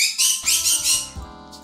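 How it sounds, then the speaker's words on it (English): A bird nearby gives a few loud, harsh squawks in quick succession, then a brief, fainter call, heard alone in a quiet room. "Bird is annoying."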